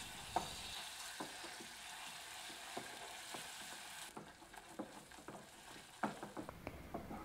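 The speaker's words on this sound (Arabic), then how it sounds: "هنا بعد ما كيذوب غادي نضيف الزبده وغنخلط بهذا الشكل هذا حتى كيندمجوا" Butter stirred into melting caramel in a pan gives a steady close sizzle and frying hiss, with scraping spoon strokes and soft clicks throughout, easing slightly quieter midway.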